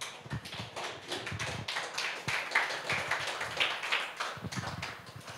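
A church congregation claps and taps in a dense, uneven patter during a worship service, with a few louder sharp slaps standing out, steady for several seconds with no talk.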